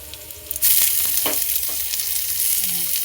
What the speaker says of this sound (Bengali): তো এবার পেঁয়াজ দিয়ে দিচ্ছে।